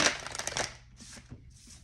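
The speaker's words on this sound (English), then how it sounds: "So let's just go ahead and put one more shuffle in here." A deck of tarot cards being shuffled: a short, crisp riffle of flicking cards up close, followed by a couple of softer taps and slides as the deck settles, with no talking.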